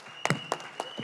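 A handful of scattered claps ring out at a film song launch event, about five separate sharp hits spread unevenly over a second, close and fairly quiet, rather than a full audience ovation.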